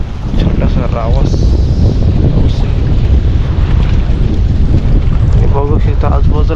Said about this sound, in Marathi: आजूबाजूला एकदम वारा बेकार आहे